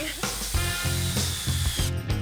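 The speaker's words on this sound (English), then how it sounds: "a drill is kind of scary" A power drill whirs in short, loud bursts close by, revving and stopping several times with a ratcheting mechanical whine.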